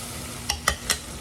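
Sliced yellow squash fries in a pan with a steady, close hiss, broken by three quick clatters as the pieces are moved around.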